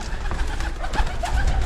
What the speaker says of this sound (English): The pigeons have made their home here.